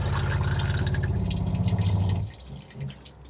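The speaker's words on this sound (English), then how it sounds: "Push to flush just on the top." A Thetford cassette toilet in an Elddis Majestic 105 caravan flushes with a loud rushing pump and water surge for about two seconds, then stops abruptly, leaving faint trickles.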